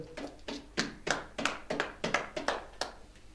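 Congregation at a French-language prayer service clapping to acclaim the Lord, a steady string of about a dozen sharp, evenly spaced claps, close and moderately soft, with no talk over them.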